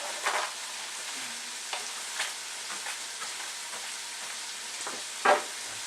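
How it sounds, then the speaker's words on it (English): Frozen chopped spinach cooks in a hot pan, giving a soft continuous sizzle with scattered light scrapes and one sharper clatter toward the end; quiet and close, with no talking. "So, add the chopped spinach, and I'm letting that just kind of like, you know, let the heat hit that a little bit"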